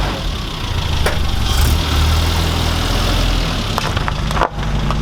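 A Classic Mini van with a Maniflow twin silencer exhaust idles close by in a steady, low, even rumble, with one brief knock near the end.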